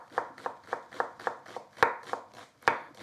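Onions are chopped finely with a knife on a cutting board for a chicken curry, with crisp evenly spaced strokes at close range and a couple of sharper, louder hits.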